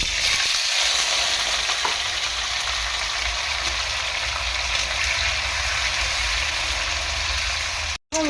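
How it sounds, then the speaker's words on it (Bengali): Potatoes fry in oil, giving a loud, continuous close sizzle that holds evenly throughout with no voices, broken only by a momentary dropout near the end. "প্রথমে আলুটা দিয়ে হালকা করে আলুটাকে ভেজে নেব"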